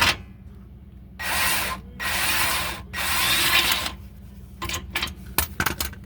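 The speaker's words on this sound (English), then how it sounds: "I'm gonna use the drill to get that mostly out." A power drill removes a bolt from a 2019 Infiniti QX60's lower control arm, whirring in two sustained bursts, then several short rapid pulses and clicks, close up with no talking.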